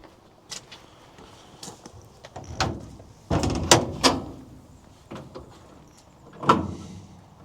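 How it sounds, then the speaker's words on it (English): Compartment door on the service bed of a 1960 Chevrolet Apache 20 truck, heard as a few separate thumps and knocks with one louder cluster of bangs midway, close by, with no talking. "I guess this door won't stay open by itself with the gravity."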